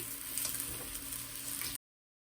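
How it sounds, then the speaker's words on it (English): Chinese stir-fry vegetables frying in a pan, a soft steady sizzle with faint crackles, cutting off abruptly. "Let the bottom fry up and then flip it over."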